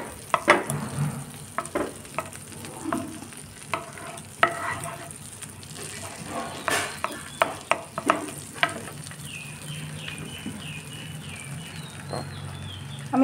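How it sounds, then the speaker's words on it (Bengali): Amul butter heating in a pan while flour is gradually stirred in for a white sauce: soft continuous sizzle with repeated scraping stirs and light utensil taps, moderately close, no talk. "এখানে আমি আমুলের বাটার দিয়ে দিলাম। এটা গরম হলে এর মধ্যে আমি অল্প অল্প করে ময়দা অ্যাড করব"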